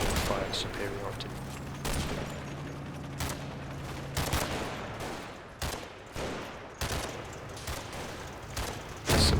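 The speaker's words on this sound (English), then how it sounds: "Slow barrage of 81mm artillery force." In the Combat Mission war game, set during Operation Epsom, a slow 81mm artillery barrage mixes with gunfire: irregular sharp bursts and booms, some close and loud, spread across a rumbling battle background.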